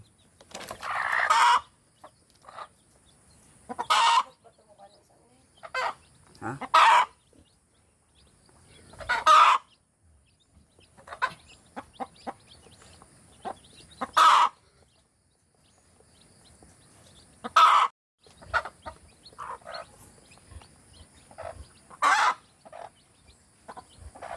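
Native chickens on a backyard farm: repeated bursts of loud, close clucking and fowl calls, spaced by brief silences, with no voices over them.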